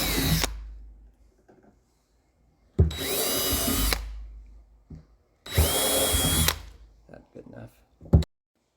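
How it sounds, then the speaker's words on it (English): A power drill with a 1/8 inch bit pre-drills screw holes through the surface of a Silverado or Sierra fuel tank, with three loud, close bursts of whining drilling about a second each, separated by quiet pauses and small knocks. "with our 1/8 drill bit and the scribe marks, we will pre-drill through the surface of the tank the 14 screw holes"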